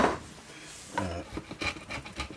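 Felt being scraped off the wooden body of a Jackson Flying V guitar, a close series of short rasping, rubbing strokes in an uneven rhythm with brief pauses between them, heard alone.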